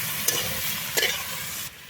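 Chillies and potatoes frying in a pan, a close, steady sizzle with a couple of brief scraping stirs before it cuts off.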